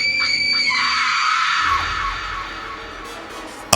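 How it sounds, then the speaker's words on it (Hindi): A long, piercing horrifying scream rings out inside a room, sustained and loud at first, then trailing off into a reverberant, echoing tail with a faint bump at the end. "एक खौफनाक चीख कमरे में गूंज उठी।"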